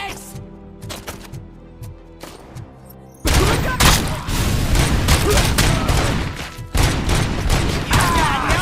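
Loud, dense gunfire in the Robocop film erupts after a quieter stretch of sparse thuds and mechanical clanks, continuing as a sustained barrage with repeated heavy bursts; a voice is heard briefly.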